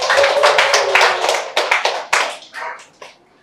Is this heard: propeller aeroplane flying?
no